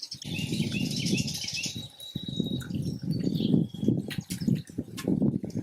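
Birds nearby with bright chirps and a thin whistle at the start, over heavy fluttering and rustling, close and lively throughout.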